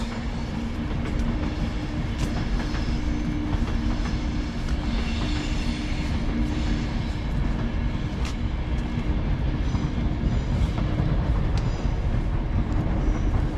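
An Avanti West Coast passenger train rumbles past close by near Birmingham New Street, with a constant heavy roar and rhythmic clicking of wheels over the rails, loud throughout.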